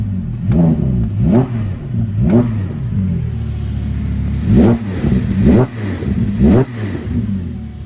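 A sports car engine revs repeatedly in short, sharp blips, climbing and dropping in pitch, loud and close, with a deep rumbling idle between bursts.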